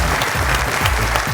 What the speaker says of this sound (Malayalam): നല്ലൊരു ക്ലാപ്പ് നമുക്ക് കൊടുക്കാട്ടോ എല്ലാവർക്കും കൂടി